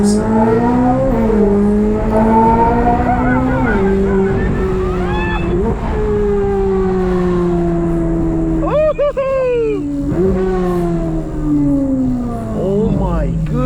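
A V12-swapped C8 Corvette revs loudly and close by, its engine pitch climbing and dropping in repeated sweeping pulls. A voice can be heard over part of it.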